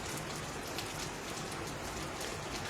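Heavy rain in Doda District, Jammu and Kashmir, a dense, loud, continuous hiss of drops pounding surfaces with no pauses and no voices.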